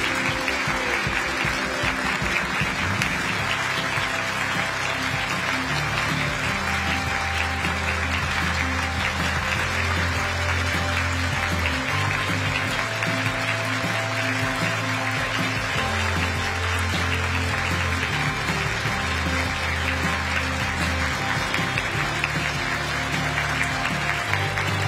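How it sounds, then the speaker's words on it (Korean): Steady, dense standing ovation from a large audience at a lecture hall send-off for the president, carrying on for the whole stretch with a low background hum and no break in the clapping. "여러분 계속해서 큰 박수로 환송해 주시기 바랍니다."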